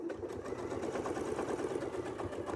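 A sewing machine stitches steadily along a Westalee Sashlee ruler template for quilting, a close, continuous motor hum with a fast rhythmic needle chatter running the whole time.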